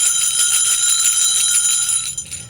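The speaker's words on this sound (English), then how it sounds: "Ring the sleigh bells!" Bright, continuous jingling of sleigh bells, loud and close, a shimmering metallic ringing that holds steady before briefly breaking off at the end.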